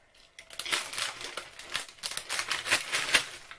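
A bag of cheese and onion crisps is crushed by hand for a crispy topping, giving a close, continuous crackling and crunching with sharp bursts of crinkle over about three seconds.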